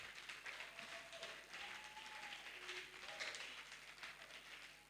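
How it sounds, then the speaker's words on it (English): Audience applause for contestants lined up on stage at a Mr Universe Nigeria grand finale pageant, a steady wash of clapping filling the hall for the whole stretch with faint crowd noise beneath. "Let's give them one more round of applause."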